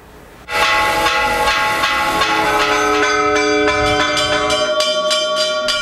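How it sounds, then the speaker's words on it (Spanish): Church bells ringing out across El Salvador, loud overlapping metallic clangs that start suddenly and keep pealing in a steady, resonant chorus with long ringing tones and no voices. "Las campanas de las iglesias a lo largo y ancho del Salvador marcaron el momento."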